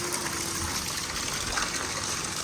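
Rainwater gushes and splashes continuously as it overflows and pools, a steady rushing flow that stays loud and even throughout, with no voices.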